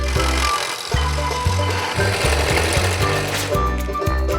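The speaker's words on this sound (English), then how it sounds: "before we attach the drum's shell to the plastic skin, we have to drill some holes" A steady, rhythmic mechanical drilling hum pulses repeatedly, loud and close, as holes are drilled in a drum shell, with a sharp whine rising near the end.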